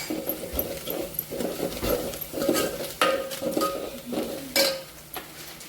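A spoon stirs and scrapes sambar masala and red chili powder in a cooking pan, making repeated close metallic scrapes and taps in an uneven rhythm, with a light sizzle underneath.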